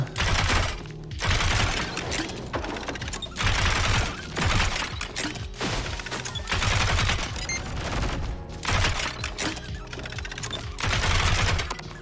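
Rapid, sustained gunfire from a weapon in the roguelike FPS game ODDCORE, loud dense bursts pounding almost continuously with only brief gaps, alone without talk.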